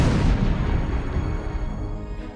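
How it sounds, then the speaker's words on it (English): A deep cannon blast from a giant siege cannon booms loudly at the start, then rolls away in a long rumbling decay with no speech. "The explosion could be heard 10 miles away."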